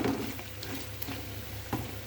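Chicken frying gently in a pan on a low flame, a soft, even sizzle with faint stirring scrapes and one or two small taps; no voices.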